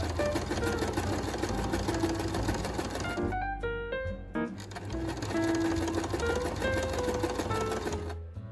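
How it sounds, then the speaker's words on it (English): A sewing machine joins the skirt side pieces of a fall dress made from an old curtain, its rapid needle chatter running steadily, with a short slower stretch partway through. "I continued by sewing the skirt side pieces together."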